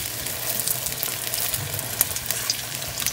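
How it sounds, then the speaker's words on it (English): Chicken cheese crepes sizzle and fry steadily in a pan, a continuous close crackle with small pops and a few scraping stirs, no talking. "I'm gonna cook the other side the same way."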